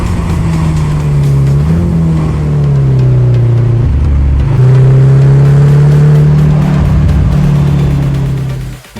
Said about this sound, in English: Let's take a moment to listen to this engine.